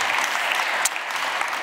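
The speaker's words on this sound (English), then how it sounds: "A big round of applause." Conference audience at a ministerial eGovernment event applauding, a dense, even wash of many hands clapping at close range for a brief stretch, with no voices.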